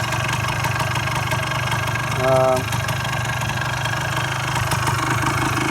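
A restored 1977 Suzuki PE250 motorcycle engine runs steadily at idle nearby, with a brief rise in revs partway through.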